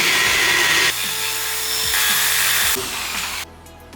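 A power drill bores into a room wall during a budget room makeover in Indonesia, a loud steady grinding whir that holds for nearly four seconds, shifts in pitch twice and then cuts out.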